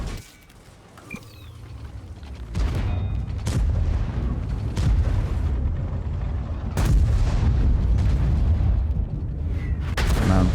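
An IS-7 heavy tank's main gun fires in World of Tanks, several deep booming shots ringing out over a continuous rumble of battle noise.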